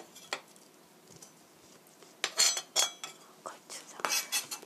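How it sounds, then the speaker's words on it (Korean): A knife slices zucchini on a cutting board, producing quiet, close taps and crisp chops at an uneven pace, with clusters of sharper cuts toward the end. "이렇게 반은 송송송 썰어주시고"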